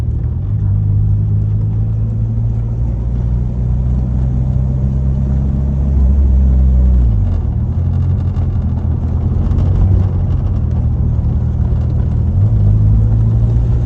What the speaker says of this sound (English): you can hear the tires fighting each other on the smooth patches here